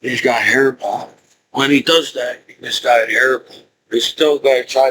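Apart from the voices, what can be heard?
No everyday noise stands out behind the speech.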